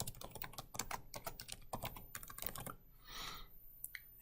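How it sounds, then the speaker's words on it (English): Rapid clicks of a computer keyboard being typed on, close and fairly quiet, in quick bursts with a short pause and a final couple of keystrokes, no talking. "I type in conditional formatting."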